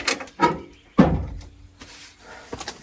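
An abandoned 4x4's door is forced open with a few hard thuds and creaking metal knocks, one heavy jolt near the start followed by smaller bumps and scrapes close to the microphone.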